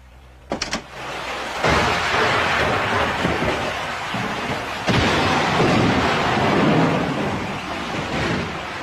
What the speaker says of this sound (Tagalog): Ano, may bagyo ba?